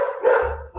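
Dogs barking nearby in a short, loud outburst with no talk over it.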